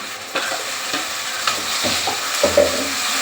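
Tomato and onion paste sautéing in a pan for a fish curry, a steady sizzle broken by several close scraping stirs of a spoon against the pan.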